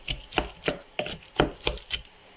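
Peaches chopped with a Pampered Chef chopper tool: about eight crisp, rhythmic chopping strikes in steady succession, close and clear with no talking.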